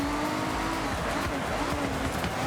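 A Ferrari off-road car driving in Forza Horizon 6, its engine a steady, loud drone with shifting pitch and tire squeal, racing continuously and close-up, with a voice talking over it.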